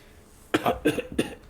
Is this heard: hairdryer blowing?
no